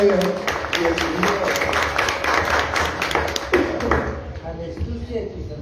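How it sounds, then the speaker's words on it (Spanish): An audience gives a short burst of clapping at a show launch in a Bogotá gallery space, in honor of a maestro and a woman guest, close and dense before tapering off, while a host speaks over it. "Un aplauso para el maestro Mapla y María Mercedes."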